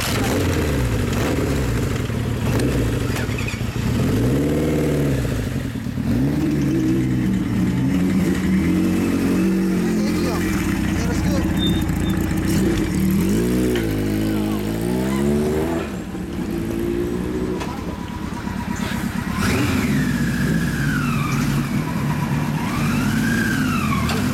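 A classic Kawasaki Z750 motorcycle engine revs repeatedly, rising and falling in pitch, with loud idling between bursts and a brief siren-like whine near the end.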